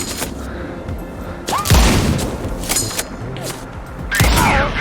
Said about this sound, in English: Just heard gunshots.